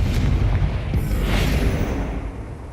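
A Confringo fire spell from the Hogwarts Legacy video game bursts in a deep, rumbling explosion, with a booming low-end blast sustained across the moment and no voices over it.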